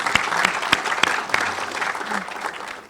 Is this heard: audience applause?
yes